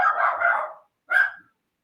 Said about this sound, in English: that's my dog's going crazy